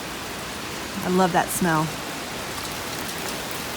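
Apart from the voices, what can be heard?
rain falling outdoors near mint fields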